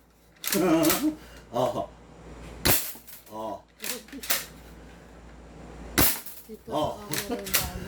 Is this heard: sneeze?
no